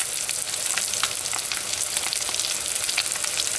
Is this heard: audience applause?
no